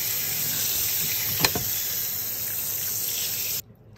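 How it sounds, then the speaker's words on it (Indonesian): Tap water runs in a steady, close rush while a sink is rinsed after cleaning, cutting off abruptly near the end. "Mari kita bilas."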